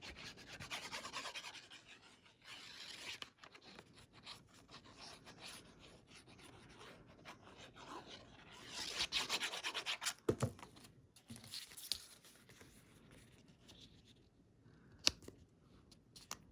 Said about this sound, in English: So we're just going to use our bone folder and smooth that on here.